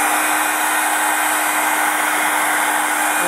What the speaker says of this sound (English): we'll take ourselves a heat gun